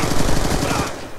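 Loud, rapid automatic gunfire in the video game Call of Duty Black Ops 2, a dense continuous burst of shots that tails off at the end.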